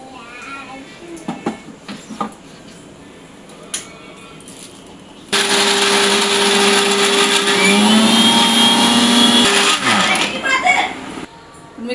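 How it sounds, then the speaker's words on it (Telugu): A kitchen mixer grinder whirs loudly as it grinds dry soya chunks into powder, starting abruptly after some quiet room noise and running steadily for several seconds before stopping, with faint voices before and after. "ఫస్ట్ దీన్ని మిక్సీ చేసి పౌడర్ లాగా చేసుకుంటాను"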